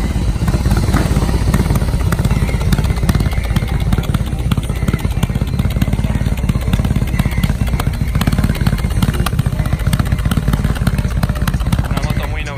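A BMW R18 Concept motorcycle rumbles loudly and steadily close by at the Wheels & Waves 2019 event, its engine noise filling the whole stretch while people talk underneath.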